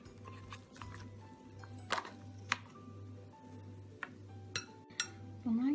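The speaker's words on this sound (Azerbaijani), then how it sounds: "Bunu yaxşı-yaxşı qarışdırırıq." Flour, baking powder and cottage cheese being mixed in a bowl, with scattered clinks and knocks of a utensil against the bowl over a low steady hum, fairly quiet and sparse.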